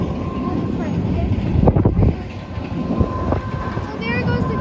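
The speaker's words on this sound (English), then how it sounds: "So there goes the train, it's leaving." A train pulls away from a station in Parry Sound, Ontario, with a loud, steady rumble and wind buffeting the microphone, a burst of heavier clatter near the middle, and high squeals toward the end.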